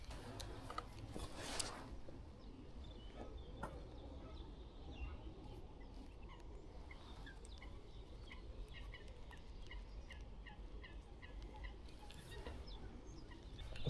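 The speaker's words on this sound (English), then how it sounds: "I can already hear lots of birds." Birds calling outdoors at sunrise in spring, scattered chirps and short calls rising over a steady low background hum, some near and some farther off, with no talk.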